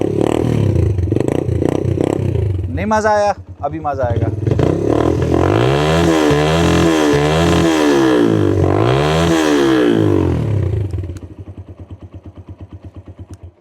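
A modified 2023 Suzuki GS 150 motorcycle engine revs hard and repeatedly, rising and falling in throaty pulses, then settles to a lower idle; someone speaks briefly over it.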